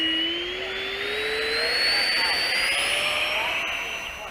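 Freewing F/A-18C Hornet 90mm EDF model jet taking off with low flaps, its ducted fan whining loud and close with a steady rising pitch, broad roar beneath, sustained throughout.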